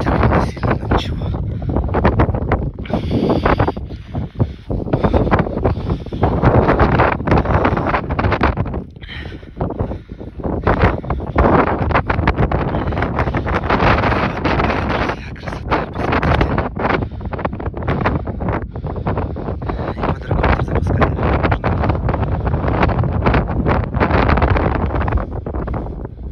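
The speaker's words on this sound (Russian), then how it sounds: "Ветер не сильно, но ничего." Strong wind buffets the microphone on snowy Ai-Petri mountain in Crimea near the cable car, a loud continuous roaring rush with gusty swells throughout, no talk.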